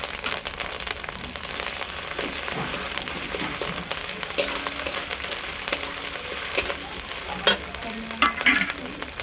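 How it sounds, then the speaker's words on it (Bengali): Chilli paste goes into a pan of well-fried masala, giving a steady close sizzle with scraping stirs and a few sharper clinks near the end; no one speaks. "এরপরে আমাদের দিয়ে দেওয়া হবে লঙ্কা বাটা"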